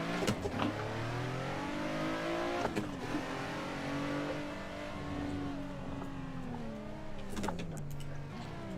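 Nissan 350Z cars tandem drifting at a track event, engines revving up and down in long sweeping pitch rises and falls with sharp bursts, heard from inside the chase car, loud and continuous without talk.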